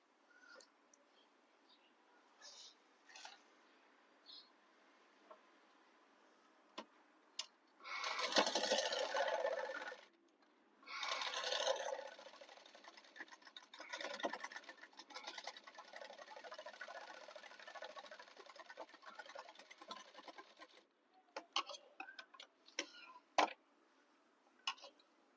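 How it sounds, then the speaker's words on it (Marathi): A sewing machine stitching darts on a blouse, with bursts of fast, whirring mechanical running between quiet pauses and scattered clicks, fairly close in a quiet room. "सो आता ह्या टिपा आपण मारून घेऊयात."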